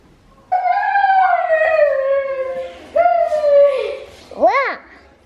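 A Newfoundland puppy howls up close, loud and alone, in two long wavering howls that slide downward, followed by a short rising-and-falling yelp.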